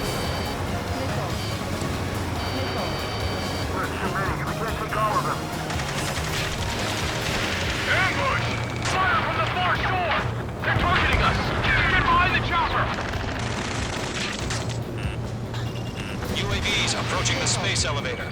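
Missile explosions in Ace Combat 7: Skies Unknown, a dense, continuous roar of blasts and rumbling detonations with radio chatter and voices layered over the steady din of battle.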